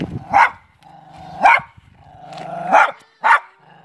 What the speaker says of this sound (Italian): Questo è un cane, che viene dalla laguna.